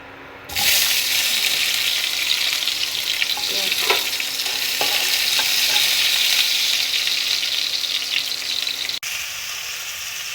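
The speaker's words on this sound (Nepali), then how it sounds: "आलु पनि यसरी फ्राई गर्ने।" Potatoes fry in hot oil with a loud, steady sizzle that starts abruptly and holds for several seconds, with a few clinks of stirring before it briefly cuts out near the end.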